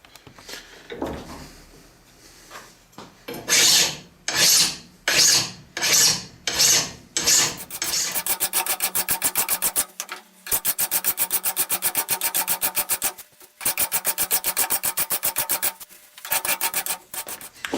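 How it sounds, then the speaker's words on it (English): A hand file rasps a radius on metal, first in about six separate, evenly spaced strokes, then in rapid continuous back-and-forth filing with brief pauses, close and clear. "Now I'm going to file this radius."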